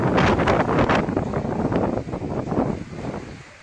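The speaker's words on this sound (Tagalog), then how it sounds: "Malakas din ang hangin kaya maalon sa bayan ng Santa Ana" Strong typhoon wind buffets the microphone on the coast of Santa Ana, Cagayan, during Typhoon Marce, a loud, roaring gust that rises and eases over a few seconds with no voices.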